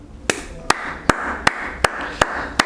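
Rhythmic clapping from a church congregation during a prophetic worship service, seven sharp claps spaced steadily about every third of a second apart over a soft background hum, with no talk.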